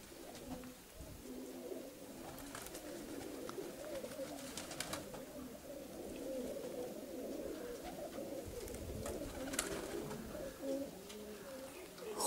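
Pigeons coo softly and repeatedly in a loft or coop, low rolling calls overlapping into a continuous murmur, with faint fluttering and occasional sharper noises.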